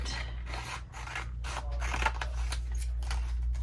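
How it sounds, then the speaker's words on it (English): Paper being cut with scissors during a craft project, a steady run of close snipping and rubbing strokes with brief pauses, no talking. "I'm thinking we need to just cut it."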